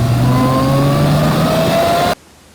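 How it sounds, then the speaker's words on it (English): A GM turbocharged V6 revs hard up through the range in one loud, rising, close pull, then cuts off abruptly into near silence. "I quickly get over the sound of a V6 when this thing produces 305 foot-pounds of torque at the wheels."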